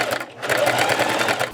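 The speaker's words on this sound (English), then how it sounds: "I'm gonna take this to the sewing machine" A sewing machine runs in a short steady burst, stitching along both sides of a handmade belt, close and loud after a brief pause at the start.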